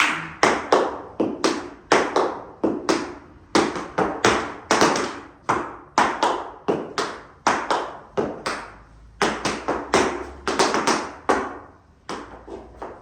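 Rapid metallic taps of tap shoes on a hard floor, a dense rhythmic stream of heel and toe strikes with brief pauses, close and clear.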